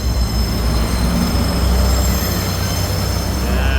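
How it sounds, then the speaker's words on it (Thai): A train rolls past close by near Chatuchak station in Bangkok, a loud, steady rumble of railcars with squealing wheels filling the whole stretch without letup. "เสียงรถไฟดัง"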